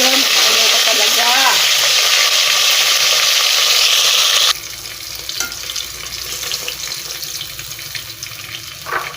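Hot oil sizzling and spattering loudly as mixed vegetables fry in a pan for ginataang gulay, a steady crackle that drops to a quieter simmer with faint stirring and clatter partway through.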